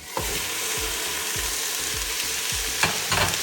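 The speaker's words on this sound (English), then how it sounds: "Then we put the meat in there." Beef frying with onions in a pan for a beef and spinach curry, a loud continuous sizzle under a steady rhythm of low scraping stirs about every half second, close up, no speech.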